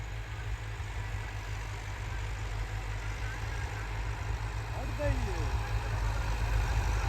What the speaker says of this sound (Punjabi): ਦੂਸਰੇ ਲੋਹ ਦੇ ਅੰਦਰ ਟਰੈਕਟਰ ਚੱਲ ਰਿਹਾ। ਟਰੈਕਟਰ ਹੈਗਾ MF 385।